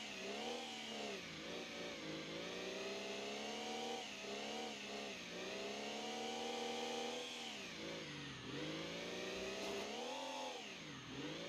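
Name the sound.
diesel engine revving in video game BeamNG.drive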